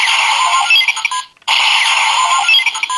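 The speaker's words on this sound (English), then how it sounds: "while in the shot setting, you get a simple blast sound" Ichigan Buster toy blaster firing its simple blast sound effect in shot mode, a loud, shrill electronic tone lasting over a second, cutting off briefly, then sounding again, with no talking.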